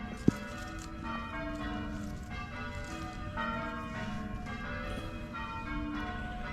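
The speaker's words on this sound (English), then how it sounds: "while they're doing bell practice" Church bells ringing during bell practice in a steady sequence of overlapping peals, resonant and somewhat distant, with a single sharp knock near the start.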